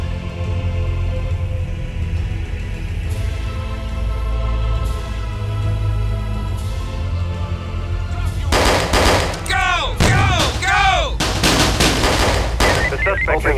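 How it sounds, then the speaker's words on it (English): Gunfire erupts in a big gunfight in the video game SWAT 3, rapid bursts of loud automatic shots after a stretch of low background hum. "That was a big gunfight."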